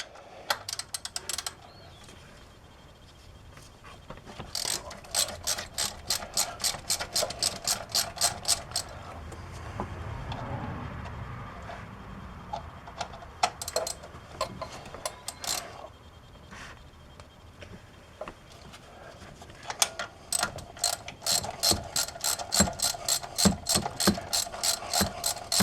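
Ratchet wrench loosening the three belt tensioner bolts on a high-mileage 2007-2014 Chevrolet Silverado, with rapid close clicking runs in several bursts, broken by a quieter stretch of metallic handling and rustling.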